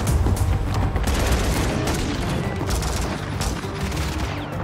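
Pistol fire in the shooter Warzone, a dense battle with shots cracking repeatedly over a steady roar of surrounding combat, loud and continuous throughout.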